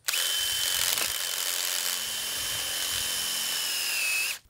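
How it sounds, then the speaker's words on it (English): A power drill bores into garden soil to make holes for planting fall bulbs, a steady loud whirring motor that runs continuously for several seconds, then stops abruptly. "you wanna just put your drill bit in the ground and just kinda turn it on."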